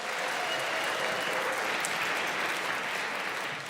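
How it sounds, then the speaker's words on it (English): Steady, dense applause from the audience at a benefit gala concert, even and moderately distant, with no break across the whole stretch. "Can we give another round of applause?"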